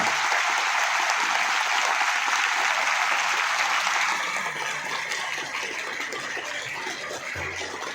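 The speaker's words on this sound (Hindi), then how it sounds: "मैं चाहता हूं कि संजीव जी के सम्मान में जोरदार तालियां बजे और कम से कम 2 मिनट बजती रहे लगातार।" Loud, sustained applause from an audience at a student achievement award ceremony, a dense continuous roar of clapping that eases slightly in the second half and keeps going to the end.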